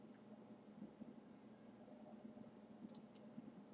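A computer mouse clicks quietly a few times, with the sharpest pair of clicks near the end, over a faint low hum in an otherwise quiet room.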